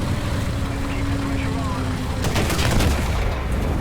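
A 20mm autocannon on a Chinese Sd Kfz 222 armoured car in War Thunder fires a rapid burst of shots in the latter half over a steady engine rumble, with a voice talking nearby.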